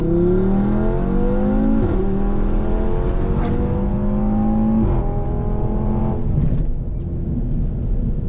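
An Audi TT RS engine roars loudly as it accelerates hard, pitch climbing through the gears with brief shift breaks, close and sustained.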